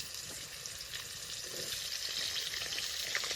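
Potatoes fry in fish oil with a steady, dense sizzle and crackle, joined by occasional scraping stirs, holding fairly even throughout with no voices.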